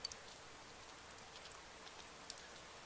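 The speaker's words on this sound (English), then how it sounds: "look, it's raining." Rain falls in the Persona 4 Golden video game, a soft, steady patter with a few faint drop ticks scattered through it, quiet and with no talk.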